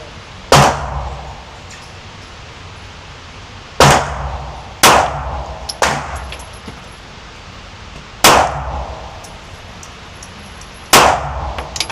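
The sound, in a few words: pistol gunshots from Ruger LCP MAX and Bodyguard 2.0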